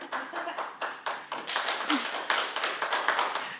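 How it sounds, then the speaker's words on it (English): Scattered audience clapping at a live demonstration as a volunteer comes up on stage, starting as separate taps and building into fuller, denser applause that continues throughout without speech. "Round of applause."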